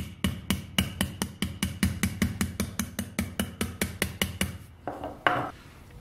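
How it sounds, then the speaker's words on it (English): Copper tubing is hammered on the horn of an anvil in a fast, even run of about twenty sharp metallic strikes, close and loud, ending in a brief pause and a lighter scrape. "And we'll just hammer that down."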